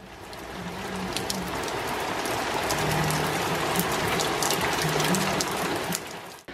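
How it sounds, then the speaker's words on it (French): Heavy rain pours steadily in a dense, even hiss of drops hitting surfaces, continuous and fairly close, with a few faint mechanical clicks underneath. "c'est reparti et il pleut plus que bien"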